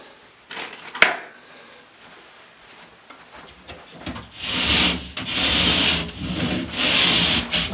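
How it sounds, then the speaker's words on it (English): A small drywall file rasps along the edge of a drywall panel during a basement bedroom renovation. A couple of taps come first, then several close, scratchy back-and-forth strokes sound loud and rhythmic. "It's just a little rasp."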